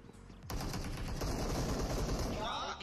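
Gunfire in a shooter video game: a sustained, rapid burst of automatic shots starts abruptly and rattles on continuously at moderate loudness.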